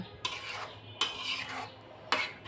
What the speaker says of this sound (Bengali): এখন একটু নেড়ে চেড়ে আর একটু রান্না করে নামিয়ে নেব।